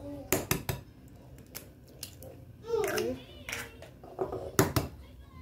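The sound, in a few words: cracking and beating eggs in a bowl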